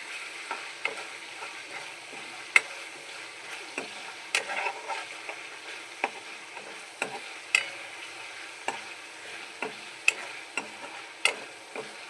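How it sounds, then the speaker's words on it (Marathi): Ginger, garlic, chilli and coriander paste sizzles steadily while being sautéed in a pan, with regular sharp scrapes and taps of a spoon against the metal at close range and no voices. "वाटण टाकून घेतलेलं आहे त्याला आपण चांगलं असं परतून घेऊया"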